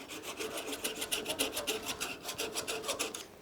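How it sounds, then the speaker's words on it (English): A small handsaw cuts an aluminum blank piece off a turned pocket case, making fast, even back-and-forth rasping strokes, close and fairly loud, with no talking. "So we'll just get a small handsaw and cut that piece off."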